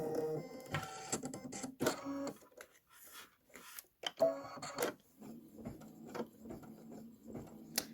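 An embroidery machine stitches a gray satin outline on a quilt block, giving rapid rhythmic mechanical chattering and whirring, close and steady with brief pauses and small shifts in pace.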